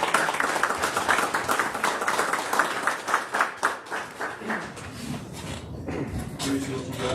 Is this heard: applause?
yes